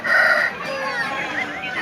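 A rooster crowing at a crowded poultry market, one loud drawn-out call up close followed by clucking and background crowd murmur.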